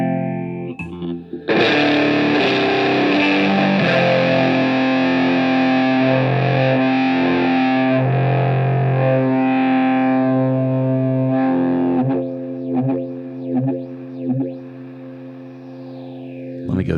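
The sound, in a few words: guitar played through phaser into fuzz pedal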